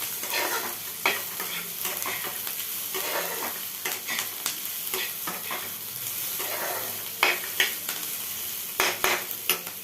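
Meat sizzles and fries in a pan while being stirred, the steady hiss broken by scraping and clinks of a utensil against the pan, close up with no talking.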